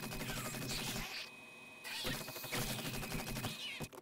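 Automated turret firing in the zombie survival game 7 Days to Die: rapid bursts of close, sharp shots in a steady rhythm, pausing briefly before a second stretch of fire.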